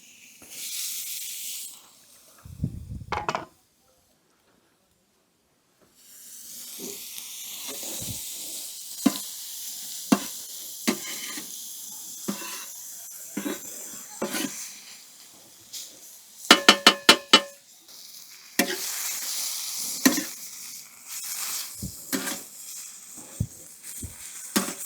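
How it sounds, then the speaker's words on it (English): Steak frying in a hot pan at a campsite, a broad sizzling hiss with gaps and crackling pops, moderately loud and close, with a brief burst of rapid spitting crackles. "the pan is nice and hot. We're just going to fry the steak."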